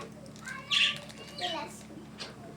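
A few faint, short bird chirps close by in a quiet room, with soft background noise between them.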